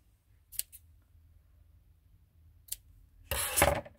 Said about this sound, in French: On les coupe.